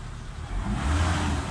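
A petrol 4G63 engine in a Mitsubishi Adventure revs up, a close mechanical rumble rising in loudness over about a second and then holding.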